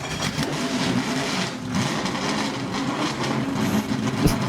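A 1988 Lotus Esprit Turbo starts up in the Driving Empire racing game, a rough, clattering engine crank settling into a busy, uneven idle, loud and close for several seconds with no voices.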